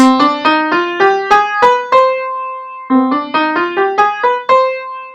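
A short ascending minor scale with a raised seventh, bright plucked keyboard-like notes, played once and then repeated, each note decaying quickly.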